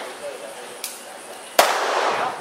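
Two gunshots ring out during police tactical weapons training, a sharp crack followed a moment later by a louder, reverberating shot, with voices in the background.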